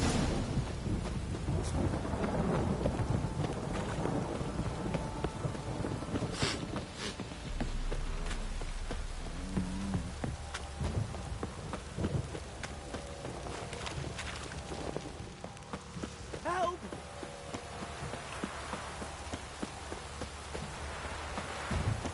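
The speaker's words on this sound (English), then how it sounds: "This downpour's a bastard, it is." Steady rain hisses over low rolling thunder in The Witcher video game on PS5, with occasional hoof-like clops and creaks in the background, fairly quiet throughout.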